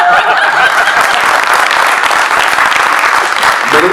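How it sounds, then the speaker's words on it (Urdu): Audience applause following a poem recitation at a poetry and music afternoon gathering, a dense steady clatter of many hands clapping throughout, with a few scattered chuckles mixed in. "شعر کے بعد نا تالی بھی بجا دیتے ہیں"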